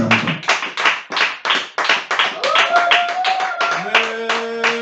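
A church congregation clapping in rhythm to acclaim Jesus, loud, close, steady beats, with a voice singing or calling out over the claps toward the end.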